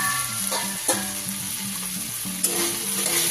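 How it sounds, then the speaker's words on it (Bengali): Chopped tomatoes frying in a pan for chicken kofta curry, a steady broadband sizzle with scraping stir strokes around one and two and a half seconds, close and alone without voices. "এবার টমেটো কুচিটা দিয়ে এবার খুব ভালো করে নাড়তে থাকবো"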